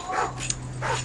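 German shepherd dog in the Modern Warfare 3 video game barking twice, sharp close barks with a brief gap between them over a steady low game hum.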